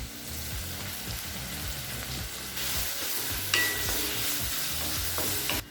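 Shallots fry in oil as they are stirred in a pan while making samai pongal, a continuous loud sizzle with scraping stir strokes and a brief louder clatter partway through.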